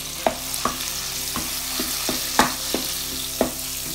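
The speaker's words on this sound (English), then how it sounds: "Give it a good stir for about 2 to 3 minutes and check for seasoning in between." A peri peri paneer pakora filling of potato, lemon juice, ginger, garlic, mint and coriander stirred in a pan, giving a regular series of sharp scraping knocks about every half second over a soft background sizzle.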